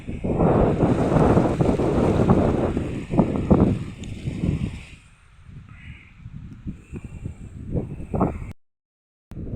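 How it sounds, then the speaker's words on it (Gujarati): Strong wind sweeps across a maize field grown as cattle fodder. Loud gusts buffet the microphone in bursts, fade for a few seconds, then pick up again before cutting off abruptly. "આપણી મકાઈ છે, ખૂબ જ પવન છે"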